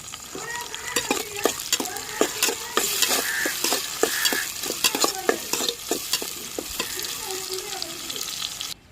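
Garlic, onion and green chilli sauté in hot oil for a fish-head curry, a steady close sizzle broken by repeated spoon scrapes and stirring clatter against the pan throughout.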